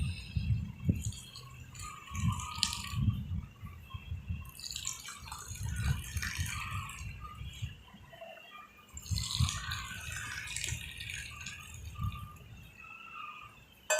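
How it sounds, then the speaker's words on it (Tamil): Cardamom tea is poured from a vessel into a cup, making a steady, close liquid stream with soft splashing that runs throughout and no talking. "இப்போ நம்ம டீ ஊற்றிக்கலாம்."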